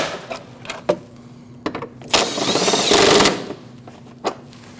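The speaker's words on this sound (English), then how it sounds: "Tighten those down." A power tool or impact wrench tightening 10 mm nuts on a Jeep Cherokee rear shock absorber, with a sustained mechanical buzzing burst in the middle, framed by sharp clicks and clanks of tools.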